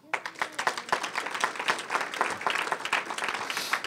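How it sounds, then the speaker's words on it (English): Audience applause for first and second place award winners at a city conference, a fairly quiet, steady patter of many hands clapping for several seconds. "let's give a round of applause to all of our first and second place winners"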